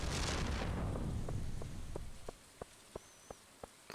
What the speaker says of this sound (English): Just try to rush home in the rain.